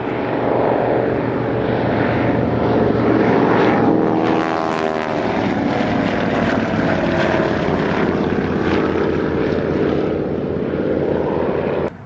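Vintage propeller aircraft, an Avro Anson or Spartan Executive at the Old Warden airshow, droning loudly and steadily overhead for the whole stretch, with a passing pitch shift midway and no talk.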